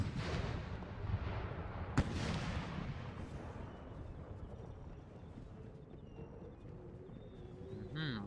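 A loud cannon shot from artillery in Empire Total War cracks out once, then booms and rumbles away into distant battlefield noise, with faint tonal game sounds and light chatter near the end.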